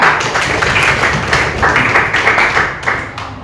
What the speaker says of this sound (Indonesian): Kasih tepuk tangan buat Alia